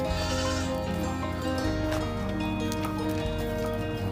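Goats bleat on a small backyard goat farm in the rural Philippines, a dense, continuous run of overlapping calls held close and loud across the whole stretch with no pauses, no voices heard.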